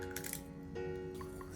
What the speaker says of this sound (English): Crack the egg into the bowl.